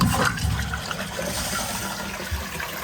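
Roca toilet flushing after its button is pressed: a loud rush of water at the start that settles into steady gurgling and draining, close by, with no one speaking.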